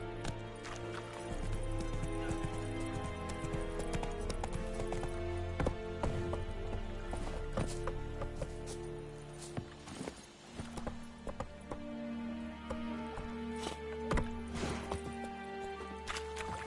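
Roach the horse from The Witcher 3 galloping in a steady clip-clop rhythm under dense game music, close and continuous throughout.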